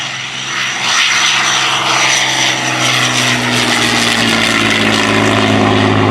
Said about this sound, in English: listen to that original Daimler-Benz engine.